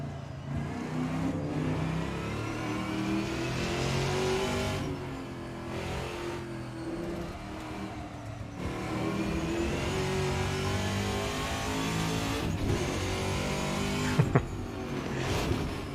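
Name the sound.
race car gear changes, video game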